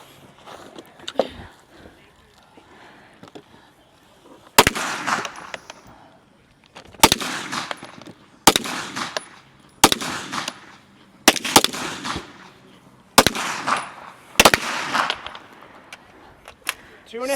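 Pistol shots ring out at a women's elite shooting competition stage: sharp, loud cracks spaced a second or two apart with brief pauses, with a voice talking between them.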